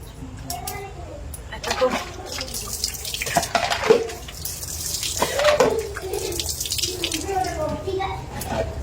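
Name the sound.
tap water running while washing face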